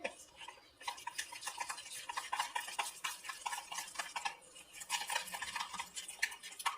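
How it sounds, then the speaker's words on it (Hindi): Lemon juice being stirred by hand into a spicy mutton leg roast masala with nutmeg powder, a steady run of close clinking and scraping against the bowl with a short pause partway through. "अब इसमें डाल देंगे लेमन जूस और इसे मिक्स कर लेंगे"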